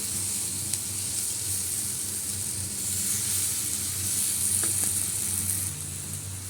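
Leafy greens fry in a pan with a steady, close sizzling hiss that holds for the whole stretch, with a few faint utensil touches partway through.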